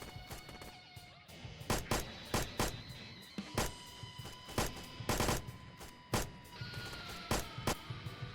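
Gunfire in the Roblox game Blackhawk Rescue rings out as a steady series of sharp shots, several each second, fairly loud over constant background game noise.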